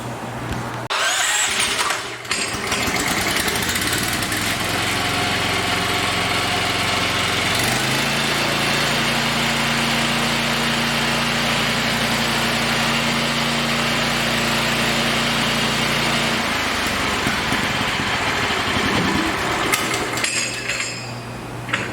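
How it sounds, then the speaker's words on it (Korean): A Honda 13 hp engine on a concrete floor grinder, used for removing epoxy and urethane, is started with the choke while lifted clear of the floor. It catches after a couple of seconds, runs steadily and loudly, rises to higher revs mid-clip, then drops back toward the end, with no voices. "이 시동을 걸 때는 이렇게 반드시 허공으로 띄운 상태에서 시동을 거셔야 됩니다"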